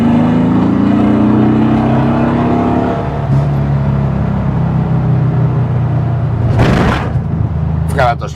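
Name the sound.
1974 VW Beetle accelerating and decelerating on a test drive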